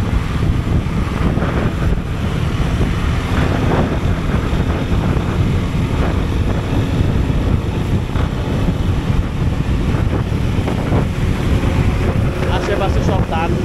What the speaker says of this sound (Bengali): এমনি কিন্তু বাতাস নাই, বাইক চালানোর কারণে বাতাস লাগতেছে।